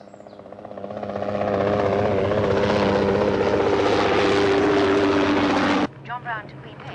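A helicopter flies overhead, its rotor chop and engine whine swelling from moderate to loud and holding steady for several seconds before breaking off abruptly.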